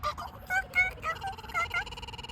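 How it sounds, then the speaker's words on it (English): A kookaburra's loud cackling, laughing call rises and falls in rapid bursts, fairly close, with no talking over it. "you make the kookaburra make a sound like"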